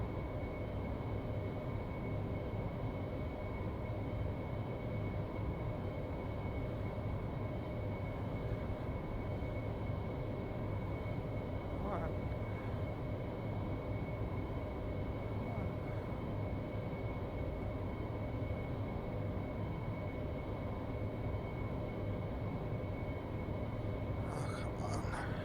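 An AV-8B Harrier jet in flight in the DCS World flight simulator gives a loud, unbroken engine roar and rushing drone that holds steady throughout.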